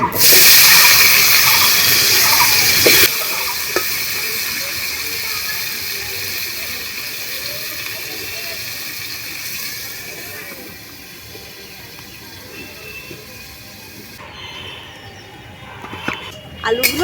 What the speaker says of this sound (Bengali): এবারে আলুগুলো তেলের মধ্যে দিয়ে দিচ্ছি